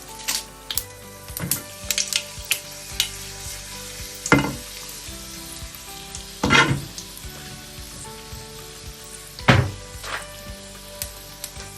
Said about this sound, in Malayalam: കടുക് പൊട്ടുന്ന സമയം കൊണ്ട് നമുക്ക് അടുത്ത് ആഡ് ചെയ്യേണ്ടത് വറ്റൽമുളകാണ്.